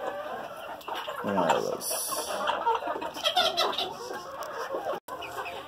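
Backyard chickens, including barred and speckled hens, clucking and squawking close by while feeding on kale, with a rooster-like call partway through and a person speaking briefly over them.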